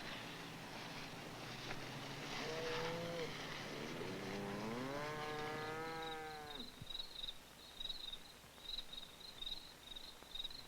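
Cattle low in the dark as a long, rising moo swells in the middle, then fades, while a steady chirping of insects carries on through the quiet night background.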